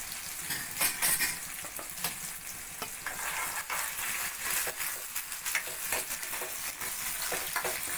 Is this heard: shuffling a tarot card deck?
no